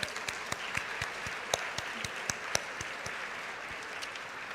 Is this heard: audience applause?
yes